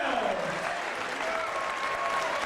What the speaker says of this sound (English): please give this young man a round of applause